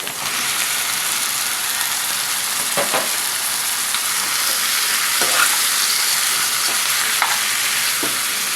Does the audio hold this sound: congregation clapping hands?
no